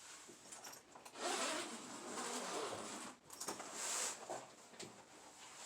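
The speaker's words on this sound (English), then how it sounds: "we're going to unzip the bassoon case from both sides" A bassoon case is unzipped from both sides, two long raspy zipper runs close by with a short pause between them, fairly quiet with no talk.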